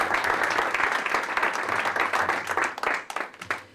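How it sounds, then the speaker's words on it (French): Audience applause at a basketball club ceremony, loud dense clapping that continues steadily and then thins toward the end. "je vous demande aussi d'applaudir"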